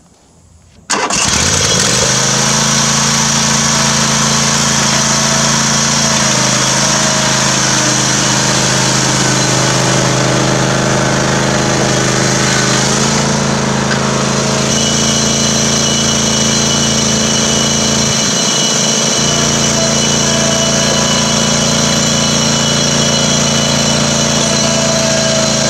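A red Craftsman riding lawn mower's engine catches after a brief crank and then runs at a steady, loud, buzzing drone close by, with no talking.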